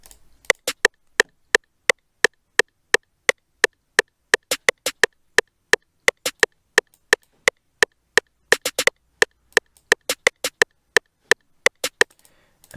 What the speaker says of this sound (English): let me turn on the metronome